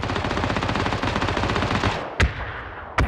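Rapid sustained machine gun fire in the online shooter PUBG, a dense loud burst of automatic shots lasting about two seconds, then two separate single loud shots.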